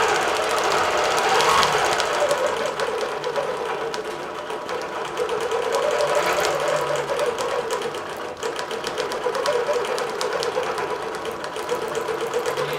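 Longarm quilting machine running at about three-quarter speed while stitching a holly design, a steady loud rapid mechanical chatter with continuous motor hum throughout.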